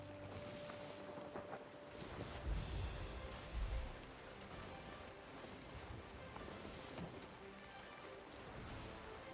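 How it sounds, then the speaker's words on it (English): A ship sails through waves in a pirate video game, with continuous rushing water and wind noise, a steady broad wash with a few heavier low surges early on and no talking. "raise anchor. And it is time to sail."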